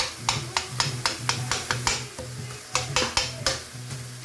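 Breaking up minced meat frying in a pan for chilli con carne, a spatula tapping and scraping in a regular rhythm of about two strikes a second over a steady sizzle, close up and alone.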